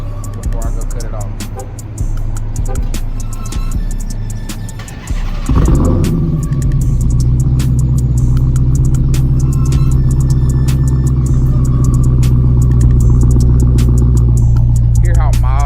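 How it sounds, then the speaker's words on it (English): A Dodge Hellcat with its stock exhaust idles with a steady low rumble, then fires up or revs around midway and settles into a louder, deep, even idle drone, heard up close. "I'm gonna let y'all hear it with the stock exhaust before I go cut it off."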